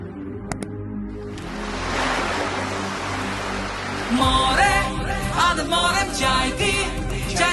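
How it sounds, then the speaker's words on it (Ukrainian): Sea waves wash in a steady broad rush, then a brighter churning layer of surf and splashing rises over it midway, moderately loud with no speech. "Море! Море! Море!"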